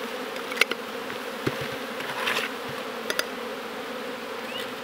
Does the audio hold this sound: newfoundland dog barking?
no